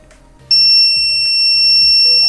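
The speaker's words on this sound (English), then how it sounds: "So it's quite a loud beep." A loud, steady electronic beep from a 52Pi TFT Pico Breadboard Kit starts abruptly and holds continuously, high and piercing, over a low background hum.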